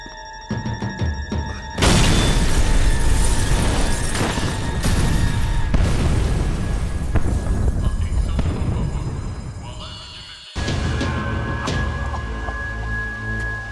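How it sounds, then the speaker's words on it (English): A blast in a Max Payne 3 cutscene erupts loudly near the two-second mark, then gives way to a sustained, roaring crash and rumble that fills several seconds, cuts off abruptly, and resumes with lower tonal ambience. "Only blind luck it meant the blast wasn't fatal"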